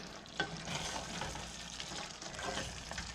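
A mutton curry masala with freshly added chopped coriander is stirred quickly in a pan, giving soft, quiet scraping and a low continuous sizzle for a few seconds.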